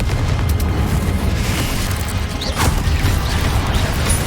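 The Confringo explosive spell blasts in the Hogwarts Legacy video game with loud, heavy booms over a constant rumbling bed, and a sharp, swooping burst stands out near the middle.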